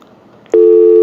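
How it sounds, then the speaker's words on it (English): Telephone tone during a live-stream call, starting after a half-second of quiet as one loud, steady electronic tone that holds until the end, with no voices. "let's see if I know how to use this phone"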